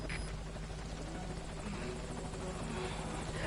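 A helicopter approaches in the Metal Gear Solid V: Ground Zeroes video game, its rotor giving a steady, loud, throbbing drone that holds through the whole clip with no voices over it.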